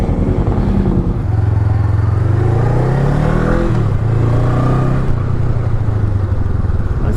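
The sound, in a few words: Honda CMX500 Rebel parallel-twin motorcycle engine running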